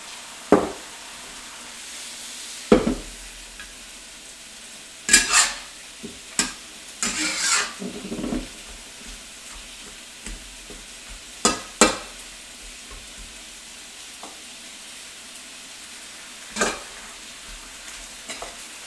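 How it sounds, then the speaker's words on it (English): Bok choy sizzles in a pan under a soft frying hiss while a utensil stirs it, giving scattered sharp scrapes and clacks at irregular intervals, close by, with no talking. "Now we're gonna add that bok choy in here."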